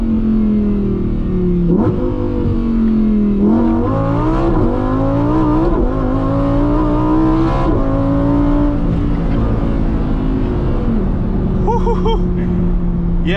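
A Lamborghini engine heard from inside with the back window open, loud and close, revving up through several gears with sharp shifts and a falling pitch as it eases off near the end.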